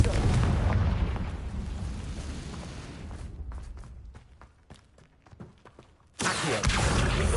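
Confringo blasting spell in Hogwarts Legacy detonates with a loud broadband boom that slowly fades over several seconds, followed by a quieter stretch of scattered crackles before another heavy blast erupts near the end.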